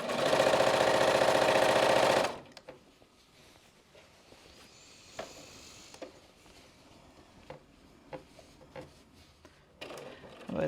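A sewing machine stitches fabric in one loud, steady burst at the start, then stops, leaving faint clicks and handling noises.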